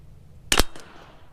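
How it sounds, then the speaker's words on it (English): A single sharp crack from a CZ 457 rifle at the range, very short and loud, followed by a faint echo off the surroundings. "So that was the first 5 shots out of this rifle"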